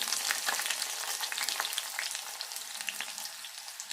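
Oil crackles and sizzles close up as onions fry in tempering oil for dal, bright popping spatters over a steady hiss, no voices.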